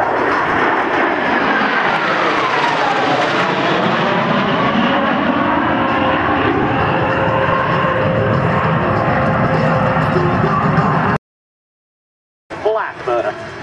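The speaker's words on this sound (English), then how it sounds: "Ladies and gentlemen, from high and behind, your 2008 F-104 demo team." F-104 jets flying in formation at an air show pass overhead with a loud, sustained roar that sweeps and shifts in pitch, then cuts off abruptly, followed by a brief announcer voice.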